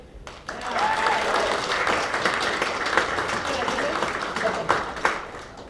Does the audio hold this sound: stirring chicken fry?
no